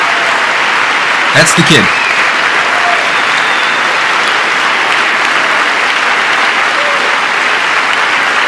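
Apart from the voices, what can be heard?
audience applauding in a standing ovation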